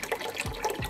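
Water pours out of a mirror fixture in a venue and runs down to drain, a steady close gush with faint splashing throughout the short moment, with no talk.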